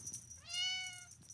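A single cat meow, rising then falling, faint and brief against a quiet background hiss.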